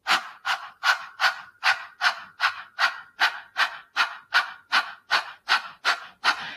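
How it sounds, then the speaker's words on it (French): In a yoga class, someone does the dog-breathing exercise: about fifteen quick, even, breathy pants in a steady rhythm, close and clear, with no speech. "lorsque vous faites la respiration de chien"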